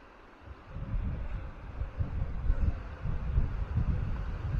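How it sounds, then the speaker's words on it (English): Low, rumbling wind buffets the microphone in steady gusts on a swinging suspension bridge in Glacier National Park, a dull roar that swells and dips throughout with no voices. "It's a little windy."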